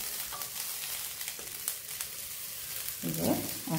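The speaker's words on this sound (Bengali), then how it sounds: "একটু চালটাকে তোমার ভেজে নিতে হবে" Soaked basmati rice fries in ghee in a pan with a steady close sizzle, broken by brief stirring scrapes and a louder bubbling burst near the end.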